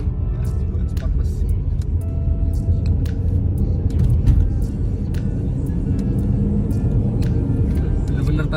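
A Mercedes GLC 200 AMG Line SUV in Sport Plus mode pulls forward with a steady low engine rumble heard from inside the cabin, while someone talks over it.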